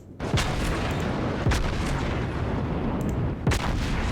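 Battleship secondary guns open fire in World of Warships aboard a Tier 9 US Iowa, three loud booming reports spaced about a second or two apart over a steady rumble of sea and game ambience.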